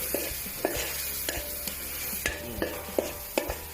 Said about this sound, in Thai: ผัดไปนะครับผัดไป ผัดไปให้หอมเลย